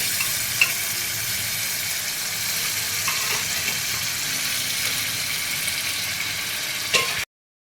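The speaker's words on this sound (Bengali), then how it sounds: "এবার আমি মাটনটা দিয়ে দিচ্ছি।" Boiled mutton fries with masala in a pan, giving a continuous, even sizzle with a few light clinks, no voices, before it cuts off abruptly near the end.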